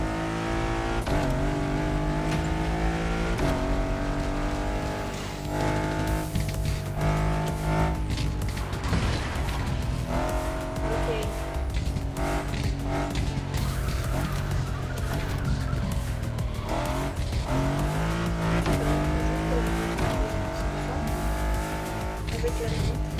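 Car engine from a racing video game driven with an Apex racing wheel, revving loudly and continuously with shifting pitch and bursts of tire squeal throughout.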